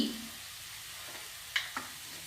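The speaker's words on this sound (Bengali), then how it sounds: "এই গরম মশলা দিয়ে একটু নাড়িয়ে দিচ্ছি আর দিয়ে দিচ্ছি একটু ঘি" Ghee sizzles in a pan of cabbage curry with garam masala as it is stirred, a faint, steady frying hiss punctuated by a couple of sharp spoon clinks near the end.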